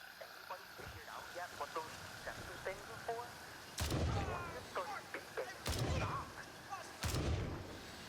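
Gunfire in the video game Gray Zone Warfare: three heavy, booming shots spaced a second or two apart, with faint clicks and quiet speech between them.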